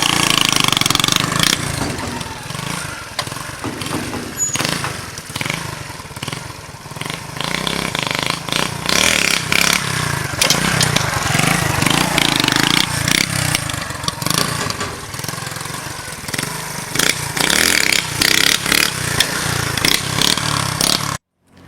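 A motorcycle engine revs close by in repeated bursts during wheelie practice, rising and falling between higher throttle pulls and rougher idle.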